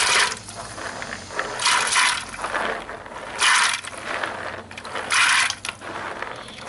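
Beans poured into an Instant Pot for baked beans, arriving in several rattling, clattering bursts separated by short pauses, close and fairly loud.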